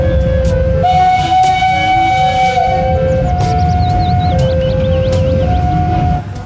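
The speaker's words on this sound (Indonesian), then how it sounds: "Wah, ini kereta api uap," A toy steam train whistles in long steady tones over a constant mechanical rumble, with a few chirpy warbling beeps in the middle.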